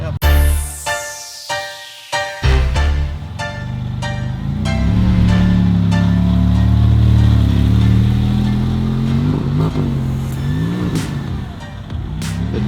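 Sharp pops and clicks burst out before a Ferrari turbo engine revs loudly and climbs, holding a strong, rising roar with turbo whooshes over it.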